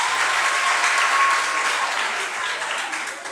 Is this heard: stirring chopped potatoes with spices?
no